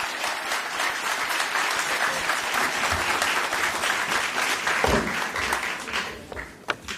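Steady audience applause at a county public safety awards celebration as two guests come up, a dense, even clatter of many hands lasting throughout, with brief voices near the end.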